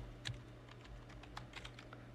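Computer keyboard keys tapped in a quick, uneven run of light clicks, faint and close against a steady low electrical hum.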